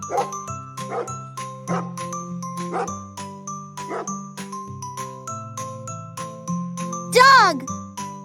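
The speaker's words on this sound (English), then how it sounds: "Dog." A dog barks in short repeated yaps over a bright, bouncy children's tune with chimes, closing with a rising squeak-like sound.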